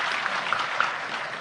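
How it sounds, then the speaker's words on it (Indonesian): Audience applause during a public talk, a continuous, fairly even spatter of many hands clapping at moderate distance, brief and steady throughout with no clear speech on top. "Top, tepuk tangan."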